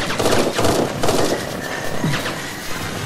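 Defensive turrets in Eden Star fire at attackers in quick rattling bursts amid dense, chaotic battle noise, heard up close over a few seconds.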